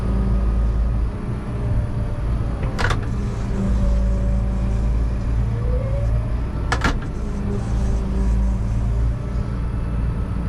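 A tractor engine runs steadily as the driver works the throttle out in a field, a continuous low mechanical drone with two sharp, brief clunks breaking through along the way.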